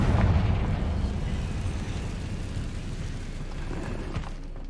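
A Confringo blasting curse detonates in Hogwarts Legacy with a loud low boom at the start. The blast trails off into a long, rumbling, crackling decay.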